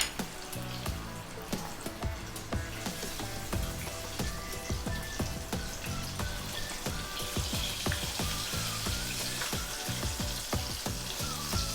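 A chicken cutlet fries in hot oil with a steady, dense sizzle and crackling pops that continue throughout at close range, with no talking.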